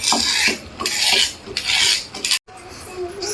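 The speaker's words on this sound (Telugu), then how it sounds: "తర్వాత ఫ్రై చేసుకున్న దొండకాయని రోట్లో వేసుకోవాలి. మెత్తగా నూరుకోవాలి." Fried ivy gourd ground in a stone mortar: gritty, rhythmic scraping and rubbing strokes, close and fairly loud, repeating in short bursts and breaking off briefly near the end.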